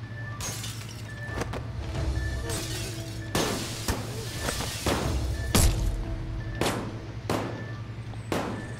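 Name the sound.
glass breaking in a video game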